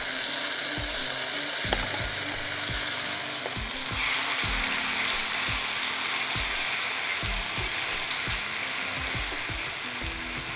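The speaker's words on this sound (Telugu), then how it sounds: "మనం గ్రైండ్ చేసుకున్న పచ్చిమిర్చి కారం వేసుకొని వేయించుకోవాలి." Ground green chili paste fries in groundnut oil with a steady, loud sizzle throughout, broken by repeated clicking scrapes of a spoon stirring against the pan, close up with no voices.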